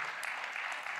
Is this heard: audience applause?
yes